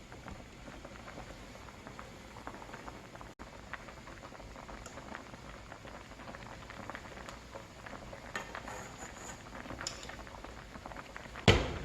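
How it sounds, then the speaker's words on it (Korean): A fish stew simmers in a pot, bubbling steadily with a soft, continuous crackle and patter. A brief clink comes near the end. "이렇게 깨끗하게 거품을 계속 걷어주시면서 끓여주세요"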